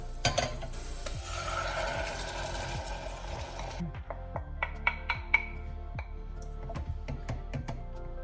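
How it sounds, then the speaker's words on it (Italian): Tomato going into a pan of browned onion, with a dense sizzle for the first few seconds that then thins out under a run of distinct scraping stir strokes and clicks from a spoon against the pan. "Adesso mettiamo il pomodoro, visto che la cipolla è bella rosolata."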